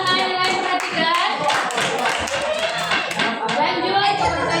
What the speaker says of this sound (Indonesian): Silakan tepuk tangan yang lain perhatikan.